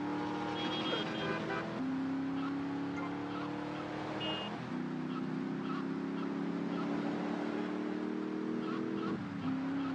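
Car engine in GTA Vice City, a steady droning hum whose pitch shifts in stepped jumps as the vehicle drives along, with faint background game sounds.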